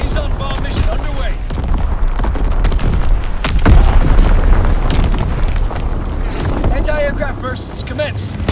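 Bomb explosions from an Azon bomb airstrike in Call of Duty: WWII, during a Domination match on the Shipment 1944 map: heavy rumbling booms that roll on continuously, loud and close, under game voice announcements.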